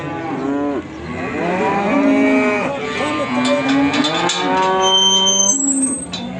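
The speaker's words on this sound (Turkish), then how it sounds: "Ama güzel kalın bir dana." Calves and cattle at a livestock market moo loudly and close by in long, drawn-out calls that overlap, with faint background clatter.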